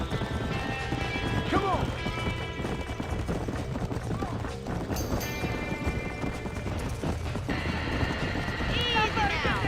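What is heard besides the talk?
horses galloping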